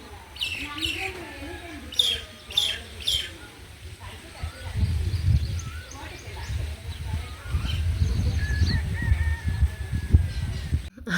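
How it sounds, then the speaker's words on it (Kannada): Birds call around a leafy rooftop terrace, with bright chirps and honk-like cries clustered early, then scattered calls over a low rumbling background and what sounds like people talking nearby. "ಆ ಪಕ್ಷಿಗಳ ಸೌಂಡು ಎಷ್ಟು ಚೆನ್ನಾಗಿರುತ್ತಲ್ಲ ಕೇಳೋದಕ್ಕೆ"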